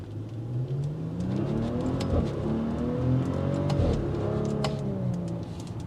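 A 2022 Maserati Levante SUV pulling away, its engine note rising and falling with gear changes and a whirring drivetrain, loud and close throughout with a few faint ticks.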